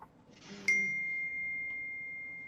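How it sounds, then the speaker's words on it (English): A doorbell chimes once with a bright two-tone ding-dong, then a long clear ringing tone hangs and slowly fades in an otherwise quiet room. "That doorbell is really bloody annoying."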